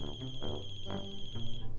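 A phone ringtone plays, a steady high tone over a repeating rhythmic melody, loud and close, with nobody talking over it.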